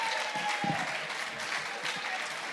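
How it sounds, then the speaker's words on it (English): Audience applause at a Zenith Bank capital markets event, steady dense clapping from a crowd lasting throughout, with faint voices underneath. "A round of applause for her."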